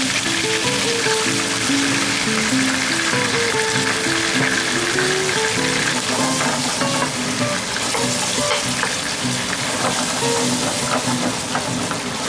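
White wine hits a hot pan of scallop and squid pasta sauce with a loud, continuous sizzle and bubbling hiss, busy crackle and stirring sounds throughout, up close.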